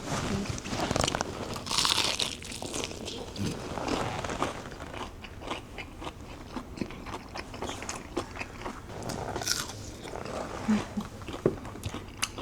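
Crispy fried batter from a Nagasaki champon meal crunches loudly with repeated close bites, followed by steady chewing and crackling.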